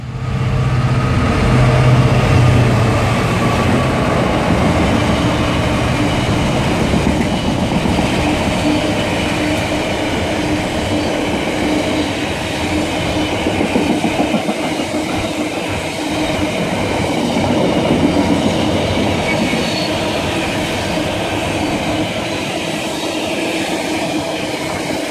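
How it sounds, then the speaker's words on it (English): A Class 66 Freightliner diesel locomotive hauls a freight train past on the Chiltern Main Line at Warwick, a loud continuous rumble and rolling wagon noise that stays close and steady throughout. "And approaching now, we have a 66, I think either Freightline or GBRF. I think it's a Freightliner"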